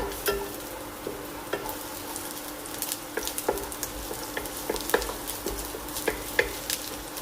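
Chopped ginger frying in hot oil in a pan alongside garlic, giving a steady close sizzle with scattered crackles and spatula scrapes throughout, no talking.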